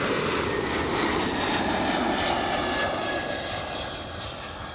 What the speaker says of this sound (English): To have a takeoff here at LAX.